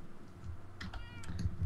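A cat meows a few times in Minecraft, short mewing calls over a steady background hum and soft clicking like keyboard typing.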